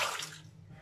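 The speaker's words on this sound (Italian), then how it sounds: "L'acqua si è splascicata dappertutto." Water is poured into a kitchen container while vegetables are being prepared, a short close splash that quickly fades.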